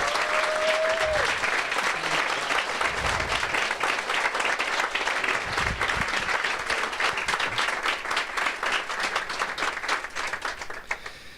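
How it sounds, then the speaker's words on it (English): Audience applause at a university evening event, a long, loud and sustained round of clapping from a sizeable crowd that gradually thins toward the end. "Can we give all 4 one big round of applause again?"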